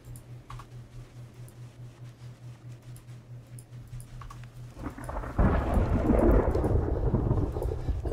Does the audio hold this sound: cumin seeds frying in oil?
no